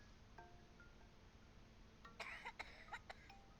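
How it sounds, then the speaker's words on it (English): Coughing from the video game OFF: a faint hum and a few soft tones, then a short cluster of several raspy coughs near the end, quiet and with no speech. "I don't like the sound of that cough"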